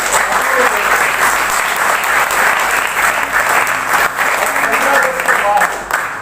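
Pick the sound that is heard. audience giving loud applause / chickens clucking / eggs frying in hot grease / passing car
audience giving loud applause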